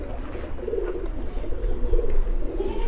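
Ordinary male domestic pigeons coo low and soft in a few rolling calls against a constant rumbling background, close by, with no talk over them.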